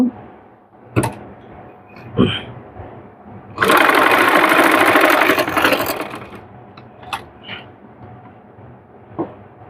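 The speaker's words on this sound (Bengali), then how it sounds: "এই সেলাইয়ের উপর দিয়ে একটি সেলাই দিয়ে নেব।" An electric sewing machine runs one sustained burst of stitching along a sleeve seam, set between quieter handling clicks and fabric shuffling, with no talk.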